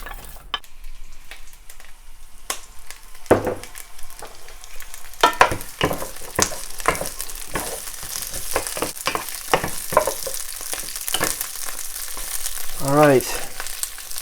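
Base ingredients hit a couple tablespoons of hot sesame oil, first quiet, then a lively sizzle with repeated sharp stirring scrapes and clatters of a utensil against the pan, close and fairly loud.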